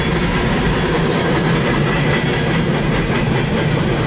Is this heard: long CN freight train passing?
yes